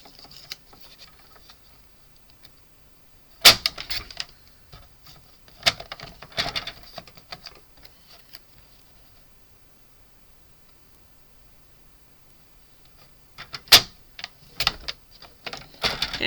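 Card stock being cut into 1.5 inch pieces on a paper trimmer for a 3D cube card, a few sharp clicking and sliding cuts separated by long quiet gaps, close by.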